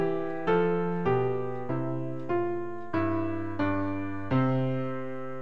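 A counterpoint melody on a piano-like instrument moves over a bass line in two voices, with about eight evenly spaced struck notes that ring and decay one after another, clear and close.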